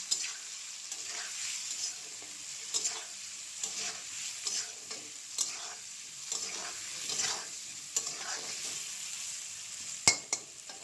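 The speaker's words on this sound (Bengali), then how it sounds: "দিয়ে দেব হলুদ গুঁড়ো, দিয়ে দেব লবণ, দিয়ে ভালো করে ভাজি করতে হবে।" Potatoes frying in hot oil in a pan with turmeric and salt, a soft continuous sizzle broken by repeated stirring scrapes at a loose rhythm and a sharper clank near the end, close and fairly quiet with no talk.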